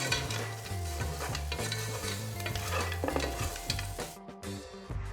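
Browned beef frying with ginger garlic paste for a beef pilau, stirred in the pan, gives a steady, dense sizzle with continuous scraping and stirring throughout, with a low droning tone underneath.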